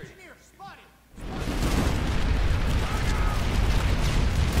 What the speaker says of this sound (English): he blew me up with a rocket launcher